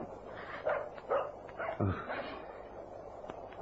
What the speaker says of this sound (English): It's a dog. A little dog barking.